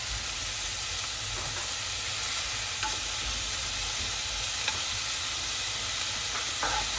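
Asparagus and other vegetables frying over high heat in a pan, giving a steady close sizzle and hiss throughout with occasional faint stirring scrapes and no talk.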